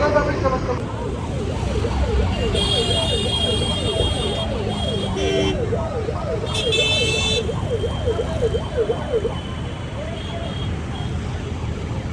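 A fire brigade siren wails in a steady rising and falling pattern, near and loud, throughout a Sikh nagar kirtan street procession, with crowd and traffic noise beneath it and brief high tones over it.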